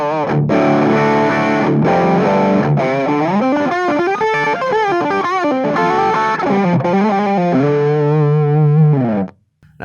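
Electric guitar through a Boss SD-1W Super Overdrive pedal in custom mode, loud driven riffs and bending lead notes played continuously for nearly ten seconds before stopping abruptly, no talking.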